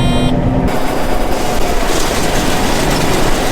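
A combine harvester with its head switched on, a loud, continuous mechanical roar and clatter that thickens as the head engages, with no talk.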